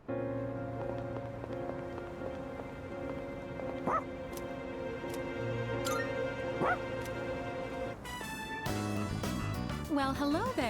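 Koromaru the dog from the video game Persona 3 Reload gives a few short, sharp barks and yips over steady background music, with a game voice talking near the end.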